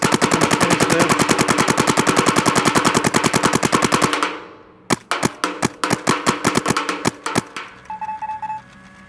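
Luxe Idol paintball marker fired repeatedly, first a long fast loud string of rapid shots, then after a brief pause a slower irregular series of sharp close pops, ending in quiet.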